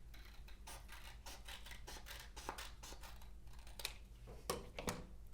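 Scissors snip out a Christmas stocking shape for a kids' laced stocking craft, a series of quiet, close, irregular cuts over a faint background hum.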